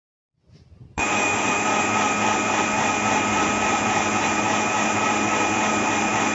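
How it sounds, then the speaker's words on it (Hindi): After a brief fumble, a blender whirs on abruptly and runs at a loud, steady high-pitched roar while blending a melon drink with ice cubes, continuing unchanged to the end. "ठीक है, अब आपने कर लेना है इसको अच्छे से ब्लेंड।"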